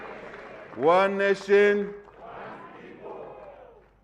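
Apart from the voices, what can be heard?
crowd clapping and cheering at Zambian independence event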